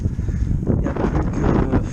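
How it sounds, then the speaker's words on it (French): Wind buffets the microphone during a road cycling ride into a headwind, a steady broadband rumble that fills the whole clip with no voices. "on a le vent de face"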